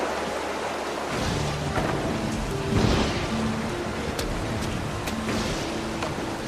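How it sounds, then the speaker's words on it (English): Steady rain falls outside with a low rumble of thunder swelling midway, dripping water and scattered sharp patters on top, and nobody speaks. "It's raining outside."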